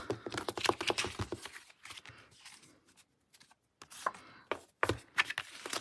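Card stock is cut close up in quick bursts of crisp, rapid slicing and trimming strokes, separated by brief silent pauses, with no speech.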